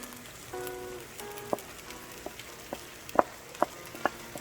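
Mixed vegetables for coconut rice sizzle faintly in a pan, a soft crackling hiss broken by a few sharper taps and scrapes, likely from stirring, with no talking.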